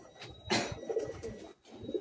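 Madras pigeons cooing close by, a few soft low coos and burbles over about two seconds, with a brief pause before one more begins.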